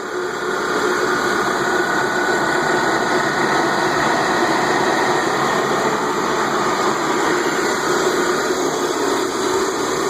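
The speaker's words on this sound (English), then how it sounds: "When you hear the compressor kick in, as cold as possible, all fan all the way up." Car engine running with the air conditioning set to maximum cold and the fan all the way up, a loud, steady close drone and hum with no clear change throughout.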